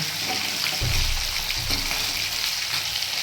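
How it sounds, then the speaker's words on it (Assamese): Fish frying in a pan gives a steady, close sizzle with continuous crackling spatter throughout, loud and unbroken, with a brief low bump near the start and no one speaking. "এয়া মাছ ভাজা চলি আছে দেই।"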